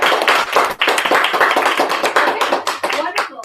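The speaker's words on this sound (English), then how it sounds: "I want to give you a round of applause." A small online group gives a round of applause during a mastermind session, close, busy clapping from a few people with uneven rhythm, with voices cheering and chattering over the claps.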